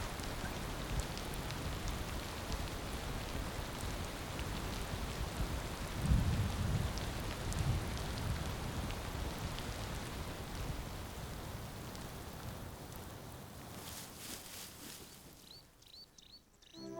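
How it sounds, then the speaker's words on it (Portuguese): Steady, heavy rain falls across the lions' dry land of Moru, a dense wash of drops with a low rumble midway. The rain thins toward the end as faint bird chirps emerge. "As chuvas agora são generosas. Caem todos os dias sobre Moru, trazendo alívio para esta terra sedenta."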